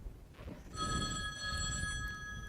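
A telephone rings with a steady electronic bell tone that starts partway in and holds over a low, muffled room rumble, moderately near and fairly quiet, with no talking.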